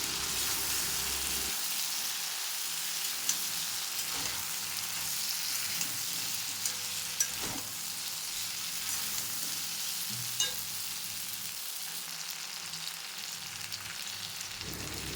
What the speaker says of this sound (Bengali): ভেন্ডি আর আলুগুলো ভালো করে মশলার সাথে মিশিয়ে নেব